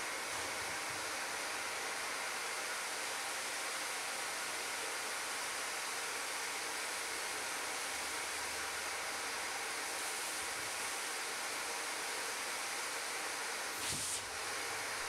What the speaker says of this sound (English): Time for the obligatory pile of sawdust on the floor test.